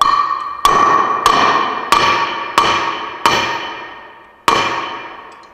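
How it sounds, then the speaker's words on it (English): A hammer pounds a bolt on a mower spindle in six sharp metallic strikes, each ringing out and fading before the next, with a longer pause before the last blow. "See, I'm getting afraid now to pound the bolt."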